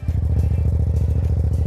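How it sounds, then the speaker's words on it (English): Idling exhaust of a 2018 Yamaha MT-07 motorcycle with modifications, parked beside a church: a steady, loud, close-up burbling throb with an even pulsing rhythm, no talk over it. "That's the noise of the exhaust."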